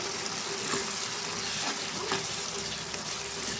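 Ridge gourd curry with chili powder and coriander sizzles steadily in hot oil as it is stirred, a dense continuous frying hiss with soft scraping from the spoon close by.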